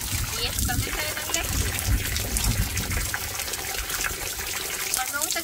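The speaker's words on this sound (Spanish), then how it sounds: "me gusta que caiga el mamellazo de agua en el suelo" Water splashes and gushes steadily onto the ground during an outdoor bath in a campsite, a continuous close splatter with someone talking over it.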